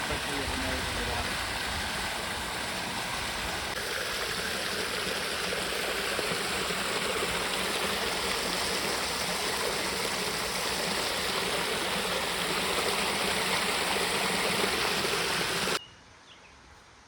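Steady rushing water flows continuously from a pool return fed by an Aquastrong variable speed pool pump, a dense, even wash that cuts off near the end.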